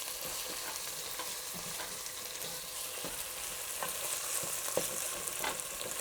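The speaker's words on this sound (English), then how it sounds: "The tomato's really starting to stick down in the pan there. Let's scrape that off." Tomato scraped loose from the bottom of a hot pan while black bean soup cooks, a steady sizzle with scratchy utensil strokes scattered throughout, close and moderately loud with no talking.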